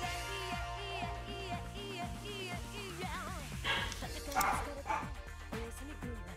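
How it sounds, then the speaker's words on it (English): Several dogs barking and yipping indoors in repeated bursts, with some whimpering, loud and close, heard alongside talk throughout. "My dogs are barking."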